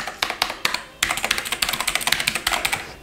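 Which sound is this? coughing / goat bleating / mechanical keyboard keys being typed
mechanical keyboard keys being typed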